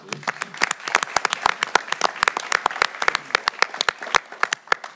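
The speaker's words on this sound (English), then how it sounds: "Give a round of applause for all those" A small audience at a school board meeting claps for honored students, with distinct individual hand claps popping out sharply over about five seconds, close and uneven rather than a dense roar.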